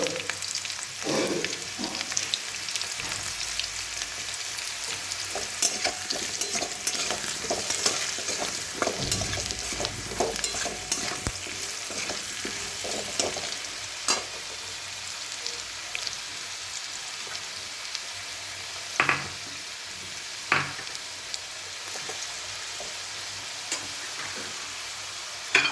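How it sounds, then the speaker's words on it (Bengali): Potatoes frying in a pan with oil while cooking a koi fish and cauliflower curry: continuous soft sizzling with occasional scraping stirs and clinks of a utensil, close by and without speech. "আলুটা ভাজা হোক। আলুটা ভাজা হয়ে এসছে"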